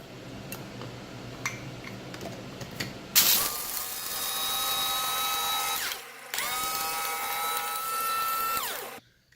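An electric grinder crushes home-roasted medium-roast coffee beans, producing a loud, steady whirring whine in two long bursts separated by a brief pause near the middle, with no talk over it.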